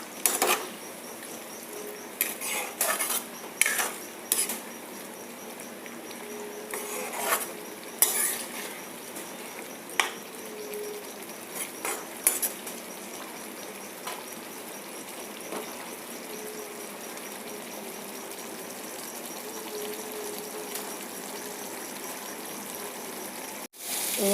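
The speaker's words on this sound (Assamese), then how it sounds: "এতিয়া মই এইখিনি ভালদৰে লৰাই" Pressure-cooked rajma, potato and pumpkin stirred in a pan with a metal spoon, giving irregular clinks and scrapes against the pan over a soft, steady frying sizzle, close by.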